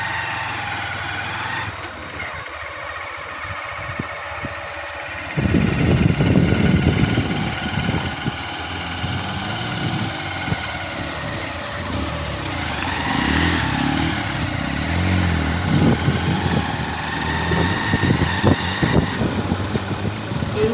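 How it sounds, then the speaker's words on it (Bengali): A motorbike rides into a forest on a rainy day, its engine note droning steadily and fairly close for the whole stretch, louder and rougher after the first few seconds, with no talk over it. "এইভাবে বাইক নিয়ে জঙ্গলের মধ্যে ঢুকতে দারুণ লাগে।"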